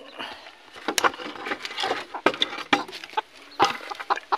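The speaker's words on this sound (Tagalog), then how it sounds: "Yan ang pangati nating mga labuyo" Labuyo wild junglefowl hens cluck in short, irregular bursts close by, mixed with wooden knocks and scuffling from inside a handmade cage.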